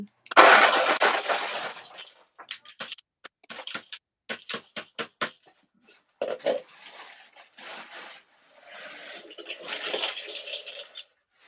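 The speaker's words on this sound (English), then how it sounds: "I'm going to go ahead and put my ice on real quick." Ice cubes are dropped onto tie-dye fabric in a series of sharp, clattering clicks and rattles, first a dense tumble and then scattered single knocks, close and fairly loud.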